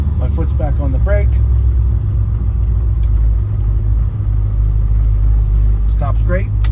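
Restored 1955 Chevrolet Bel Air cruising slowly in first gear, a deep steady low engine rumble throughout, close and loud, with someone talking briefly over it at the start and end.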